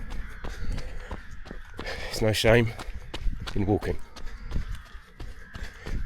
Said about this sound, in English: Birds are noisy, aren't they?